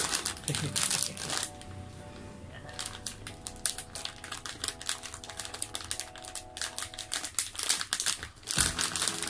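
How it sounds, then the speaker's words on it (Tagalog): Crinkly plastic packet of chicharon bagnet being torn open and handled, a run of loud close crackling and rustling bursts, some sharp and rapid, with a short fuller crunch near the end. "Okay, buksan na itong lutong na to."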